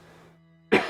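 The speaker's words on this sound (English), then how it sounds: "sorry about all the coughing" One sudden, loud cough bursts out close to the mic at the very end, following a low steady hum.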